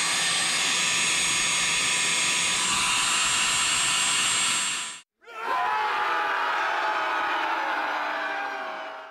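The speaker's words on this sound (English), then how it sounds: "Our trusty heat gun." A heat gun blows a loud, steady rush of air over heat shrink on wiring. It cuts off briefly at the midpoint, then starts up again and slowly fades.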